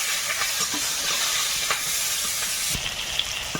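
Onions, bay leaf and five-spice seeds sizzle and hiss steadily in hot oil in a wok, with a few small pops and crackles and no talking.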